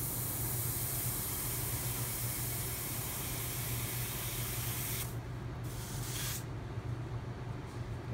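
Airbrush spraying paint in a steady hiss during a flame and camo touch-up on cardstock, continuous and close, with brief gaps as the airflow cuts out and resumes near the end.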